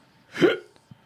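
A single short, throaty burp close to the microphone, followed by a faint click and quiet.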